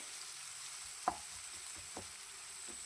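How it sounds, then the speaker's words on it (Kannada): A spoon stirs soft tomatoes cooking in a pan for an aloo paneer green masala. Faint, steady sizzling runs underneath, broken by a few light scrapes and taps, with no voices. "ನಾನು ಕೈ ಆಡಿಸ್ತಾನೆ ಇದ್ದೀನಿ ಇಲ್ಲಿ ಚೆನ್ನಾಗಿ ಬೇಯೋವರೆಗೆ"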